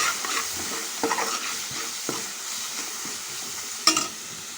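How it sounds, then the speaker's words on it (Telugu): Fried taro root is stirred with chili powder in a pan. A steady oil sizzle runs under a few scraping strokes of the spoon, ending with a sharper clink near the end. "ఇప్పుడైతే ఇందులో నేను కారం యాడ్ చేస్తున్నాను ఒక టూ స్పూన్స్ అయితే చక్కగా కలుపుకోవాలి"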